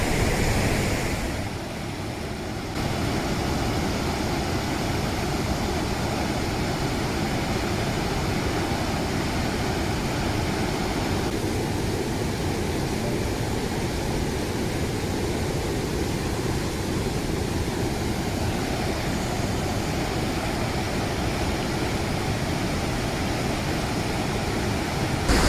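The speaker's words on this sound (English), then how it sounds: "This waterfall was really crazy, really amazing waterfall." A large waterfall likened to a miniature Niagara Falls roars in a steady, loud, broadband rush that continues unbroken throughout, with no voices over it.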